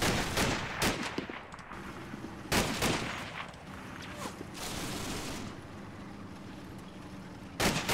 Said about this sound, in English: these guys who are completely exposed are being machine gunned